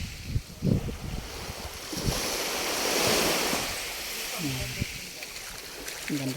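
Sea waves washing onto a beach, a steady surging wash swelling and easing under gusty wind noise, with someone talking over it.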